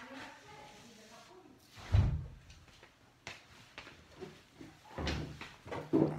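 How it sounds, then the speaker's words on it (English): A door swings shut indoors with a firm, fairly loud thud, followed a few seconds later by another knock or bump, with a speaking voice heard on either side of it. "I just closed the door."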